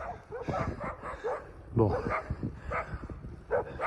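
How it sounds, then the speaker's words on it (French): Dogs barking on a road between Cúcuta and Ábrego, several sharp barks and yips at moderate distance, mixed with a person speaking briefly. "encore des chiens"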